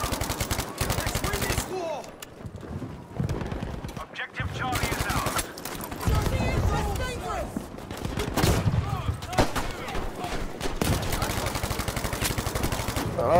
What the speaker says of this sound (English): Bertie, shoot down there.